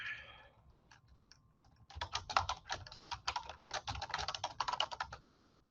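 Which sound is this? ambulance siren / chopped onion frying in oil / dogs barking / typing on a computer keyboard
typing on a computer keyboard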